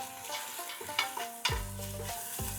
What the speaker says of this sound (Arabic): اول شيء ححط شلوت او بصل الوادي